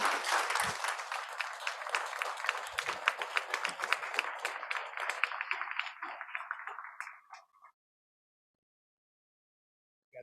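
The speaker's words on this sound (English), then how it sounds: "Let's give Miss Nikki Lanier a round of applause." An audience at a Chicago event gives a warm round of applause, dense crisp clapping from many hands that holds steady for several seconds, then tapers off into silence.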